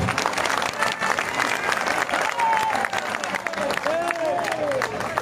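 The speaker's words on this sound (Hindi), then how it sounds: "एक बार जोरदार तालियां बजा के उनका स्वागत कीजिए" A large rally crowd at a protest movement gathering in Delhi applauds vigorously, a dense, continuous roar of clapping with scattered shouts and whistles rising over it.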